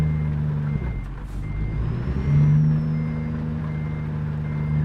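A reversing truck in American Truck Simulator sounds a steady, repeating backup beep over a loud, rumbling diesel engine idle, with a brief hiss partway through.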